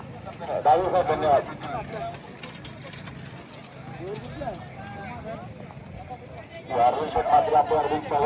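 Bull hooves pounding along at a run during a bullock cart race, amid outdoor crowd noise, with loud shouting voices rising at the start and again near the end.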